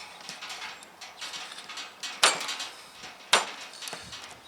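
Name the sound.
shaving a block of beeswax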